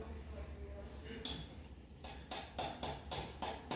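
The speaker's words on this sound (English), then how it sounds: "Hunter's getting the U-joint off so we can get the drive shaft out of this thing." Metal-on-metal hammer blows on a drive shaft U-joint during transmission removal, five or six sharp clanking strikes in a steady rhythm, close and fairly loud, after a stretch of quieter workshop background.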